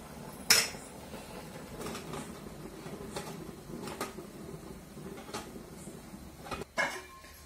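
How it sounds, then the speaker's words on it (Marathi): Idli plates clink and clatter as they are set one by one into a steamer, a series of faint metallic knocks and scrapes spaced a second or so apart in an otherwise quiet kitchen. "आपल्याला एक एक प्लेट अशा ठेवून घ्यायच्या"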